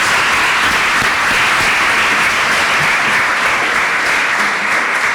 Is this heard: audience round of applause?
yes